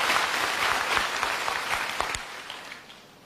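A church congregation claps in a dense burst that fades over about three seconds.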